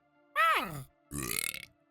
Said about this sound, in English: Jeff belched in response.